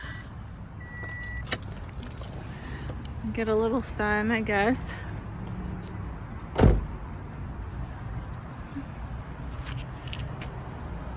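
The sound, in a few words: getting out of a car, door opening and closing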